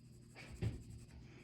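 A pencil shades lightly across paper with soft, faint scratching strokes and one slightly stronger stroke in the middle, very quiet and close.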